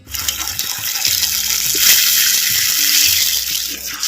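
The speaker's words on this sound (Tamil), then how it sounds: "இப்போ வந்து தேங்காய் பாலை நம்ம ஊற்றிக்கிட்டுருவோம்" Coconut milk pours into a pan of sardine curry made with fried sardines, a steady liquid gush with sizzling over a continuous bed of noise lasting the whole few seconds, with no talk.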